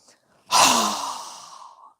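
A single strong exhale through a wide-open mouth during a yoga breathing exercise, close and breathy, fading out over about a second and a half.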